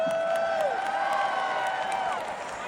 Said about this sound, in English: round of applause for this outfit